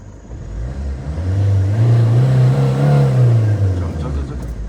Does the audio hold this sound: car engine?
yes